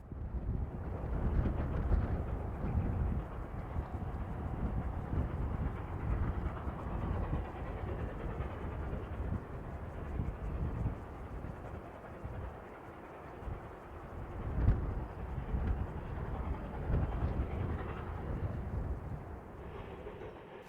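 A 1913-built 260 class locomotive, number 4 of the former Oberalpbahn line, rumbles steadily toward the 1,858 metre Vrútky tunnel, its low continuous rolling roar with a few louder surges, heard alone without voices.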